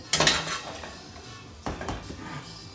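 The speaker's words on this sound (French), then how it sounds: "Ensuite, on dresse dans un plat." Sautéed lamb with sorrel being plated into a serving dish: two clusters of ceramic clinks and utensil scrapes, the first near the start and the second just past the midpoint, fairly close and alone.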